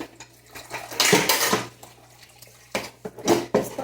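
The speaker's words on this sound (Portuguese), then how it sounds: "Bora lavar uma louça?" Dishes clatter and scrape in a kitchen sink as they are washed, with a loud burst of clinking, quieter rinsing and scattered knocks of pots and cutlery.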